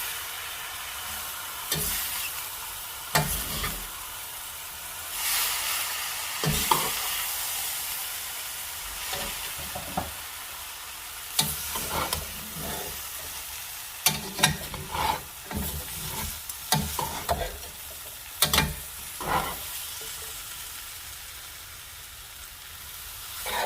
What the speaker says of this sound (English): now I'm going to add the rest of my cooked ingredients in, and it's time to mix this up